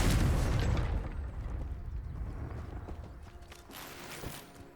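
A Confringo blasting spell goes off in Hogwarts Legacy with a loud, heavy boom up front that rumbles and fades over several seconds, trailed by scattered crackles and a smaller pop near the end.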